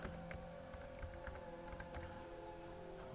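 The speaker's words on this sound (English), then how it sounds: "I'm typing it right." Quick, faint clicking of keys on a computer keyboard during a web search, scattered keystrokes over a steady low electrical hum.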